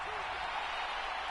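A home crowd roars steadily in the Madden 23 football video game after a poor kick return. The wash of cheering is loud and unbroken.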